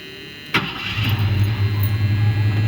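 A 1980 Jeep Wagoneer starts up: a sudden crank of the starter, then the engine catches and settles into a low, rumbling idle nearby.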